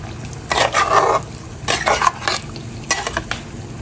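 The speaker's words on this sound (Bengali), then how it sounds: "তারপর এখন ভালো করে নেড়ে দিচ্ছি" Beef mixed with yogurt is stirred in a wok, a spoon scraping the metal in three separate bursts of scraping and clatter over a faint sizzle, close and fairly loud, with no talking.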